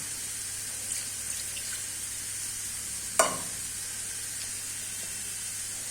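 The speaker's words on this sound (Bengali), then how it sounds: "আমি আর একটু নেড়ে দিচ্ছি, যেহেতু আলুটাও ভাজা হয়ে গিয়েছে" Fried potatoes and browned onions in a pan give off a soft steady sizzle, with a few faint stirring scrapes and one sharp clack of the utensil partway through. The sound is close, with no talking.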